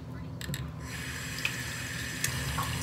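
Tap water runs steadily into a sink while face cleanser is rinsed off, a soft continuous hiss and splash with a few small splashes and light handling noises near the start.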